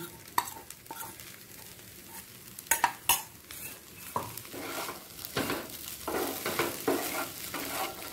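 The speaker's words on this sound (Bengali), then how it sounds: "সাবুদানাটা দিয়ে সবজির সাথে ভালো করে মিশিয়ে নিচ্ছি।" Soaked sago is stirred with vegetables in a pan over low flame, with repeated scraping and clinking of a spoon against the pan above a soft sizzle, close and continuous.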